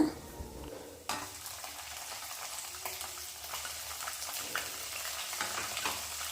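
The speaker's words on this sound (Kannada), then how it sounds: "ಬೆಳ್ಳುಳ್ಳಿ ಎಲ್ಲ ಲೈಟ್ ಬ್ರೌನ್ ಕಲರ್ ಬರೋವರೆಗೂ ಫ್ರೈ ಮಾಡ್ಕೊಳ್ಳಿ." Garlic frying in oil with roasted chana dal and peanuts for tamarind gojju, a bright continuous sizzle with a spoon scraping and stirring through it, beginning with a sharp clatter.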